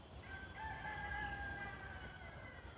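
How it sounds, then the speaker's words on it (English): A rooster crows once in a single drawn-out call at moderate distance over quiet background hiss. "And we're featuring a rooster."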